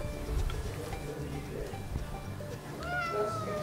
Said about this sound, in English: Uh-oh, I'm allergic to cats.